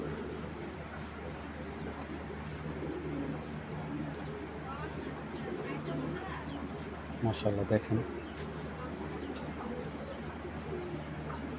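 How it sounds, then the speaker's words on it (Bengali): Female pigeon, a breeding hen in a racing-pigeon loft, coos softly at mid distance under steady background noise, with someone talking over it and a few louder bursts near the end. "মাদি কবুতর।"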